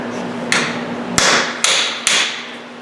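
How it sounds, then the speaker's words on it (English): Four sharp metallic strikes from a brass hammer hit the threaded end of a Grand Am CV shaft during wheel bearing removal, each ringing briefly, spaced about half a second apart, close and loud. "what you want to use is a copper or brass hammer, or a piece of a brass hammer"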